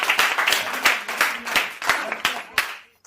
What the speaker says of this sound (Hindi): बहुत जोरदार तालियों से स्वागत करें